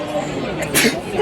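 A single sharp sneeze bursts out amid a noisy, chattering crowd at an eatery in Italy, with murmuring voices continuing around it.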